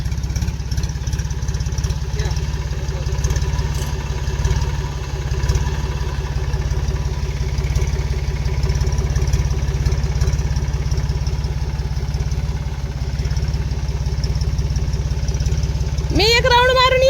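A tractor engine idles at a farm in a village, giving a steady, close low rumble that holds throughout, with a brief rising tonal sweep near the end.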